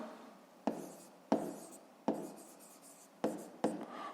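Pen strokes scratch across paper while working a 5th-grade maths exercise by hand, several distinct bursts of close, dry writing separated by short pauses, with no talk.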